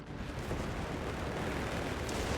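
A grenade explosion in Company of Heroes 3 fills the whole span as a dense, sustained roar of blast and rumble, loud and broadband with no pause.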